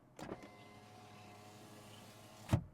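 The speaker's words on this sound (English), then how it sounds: "the motors on the windows" Electric window motor on a Subaru Solterra, a steady motor whir running close and moderately loud for a couple of seconds, bracketed by a click or thump at the start and a sharper knock as the glass stops.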